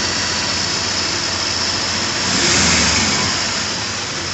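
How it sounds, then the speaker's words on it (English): 1980 Triumph TR7 engine running cold before it will idle, a steady close hum with a faint high whine, its rumble briefly swelling louder midway then settling. "Won't quite idle yet."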